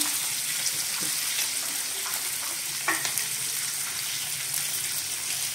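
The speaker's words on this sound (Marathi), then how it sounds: "त्याच्यामध्ये आता आपण घेवड्याच्या शेंगा टाकूया, गाजर टाकूया" Broad beans and carrots frying in a pan for Bhogi bhaji, a soft steady sizzle with occasional stirring scrapes and clicks, no voices.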